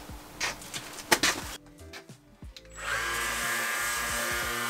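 A power sander with 180-grit paper whirs steadily on plastic-coated kitchen cupboards in the second half, a continuous buzzing drone following scattered clunks and taps of work nearby.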